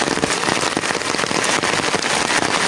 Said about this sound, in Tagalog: Napakalakas ng ulan, buti na lang may payong tayo